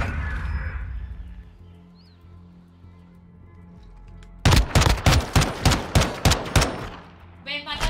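Rapid bursts of video-game gunfire in a ranked Call of Duty DMZ search-and-destroy match crack out loud and close after a quiet stretch, a dozen sharp shots in quick succession.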